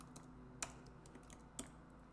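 Quiet typing on a computer keyboard while writing mobile app code, a few soft scattered key clicks with two sharper taps, close and alone.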